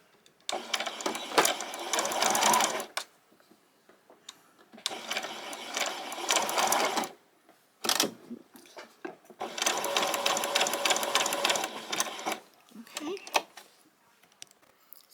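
A sewing machine stitches fabric for a hairband in several bursts of rapid, steady whirring, separated by short quiet pauses, close and clear.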